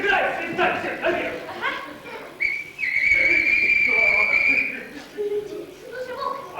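A clear, sustained whistle blown as the naval "all hands on deck" call, held steady for about two seconds, with voices chattering before and after it.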